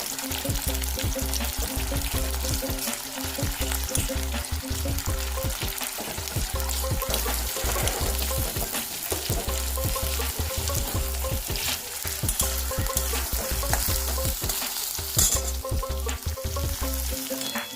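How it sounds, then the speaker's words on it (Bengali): Sliced onions frying in hot oil into crisp beresta for home-style haleem, a steady dense sizzle with occasional stirring scrapes running continuously and fairly close, with no voices. "তেল গরম হয়ে গেছে, আমরা এখন অর্ধেকটা পেঁয়াজের বেরেস্তা করে নিচ্ছি।"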